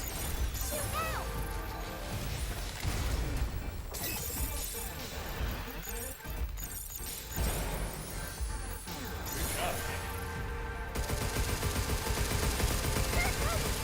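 Chaotic shootout gunfire in the video game Pragmata, rapid bursts mixed with crashes and shattering impacts over a loud, busy game soundtrack.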